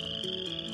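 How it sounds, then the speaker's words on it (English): Frogs croak in a steady chorus, with three rhythmic bursts rising over a continuous droning tone, moderately loud with no talking. "There were frogs"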